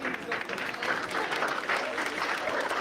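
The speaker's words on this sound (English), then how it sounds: "And here we go, nice round of applause." Audience applause at a 9-ball pool match in New York, a steady spread of clapping across the room lasting throughout, with a commentator talking over it.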